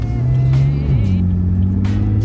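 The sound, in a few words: Nissan GTR car engine revving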